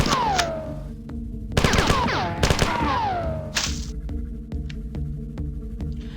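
Assault rifle fire in a Bungie video game, sharp separate shots with ringing echoes and whooshing effects over a steady low hum, loud and close with no talk.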